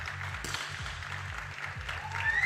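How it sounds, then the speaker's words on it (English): Spectators at a junior women's 50m three-position rifle shooting final in Osijek, Croatia, applaud and cheer loudly and steadily, the noise swelling toward the end while a voice speaks over it. "The crowd getting involved, making themselves known"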